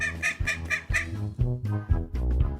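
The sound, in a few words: duck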